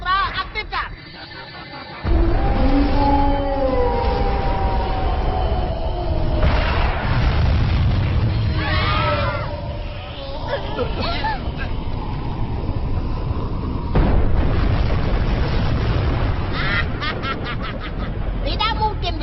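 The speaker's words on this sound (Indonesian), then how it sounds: "Tembakan gelombang ultra aktifkan." An ultra wave cannon fires and explodes in a Doraemon animated movie, a deep booming blast and rumbling roar with whooshing tones, loud and sustained after a short quieter lead-in.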